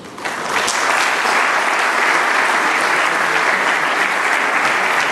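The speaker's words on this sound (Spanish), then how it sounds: "quienes aplauden sus brillantes trayectorias" Sustained, dense applause from an audience honoring award recipients at a university ceremony in Cusco, rising quickly and holding steady and loud throughout.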